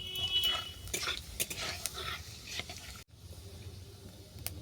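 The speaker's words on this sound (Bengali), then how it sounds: "ফোড়নে দিলাম কোচানো রসুন" Crushed garlic frying in oil for a tempering, heard as a faint, soft sizzle with scattered light clinks of a utensil against the pan, quieter after a brief cut.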